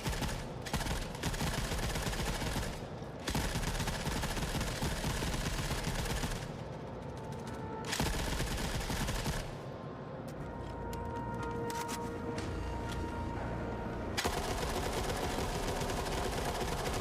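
Heavy, dense gunfire from The Forever Winter, with shotgun blasts in rapid bursts broken by short gaps and a lighter stretch midway, loud and continuous throughout with no clear talking.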